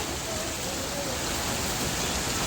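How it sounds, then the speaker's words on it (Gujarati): Loud, continuous downpour of heavy rain, a dense steady hiss with no pauses. "વરસાદ ચાલુ થઈ ગયો છે આપ જોઈ રહ્યા છો ફૂલ વરસાદ ચાલુ છે હાલ"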